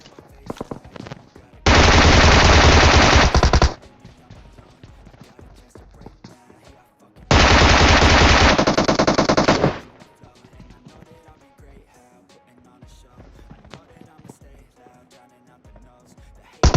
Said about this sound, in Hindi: आगे गोली गोली चल रही है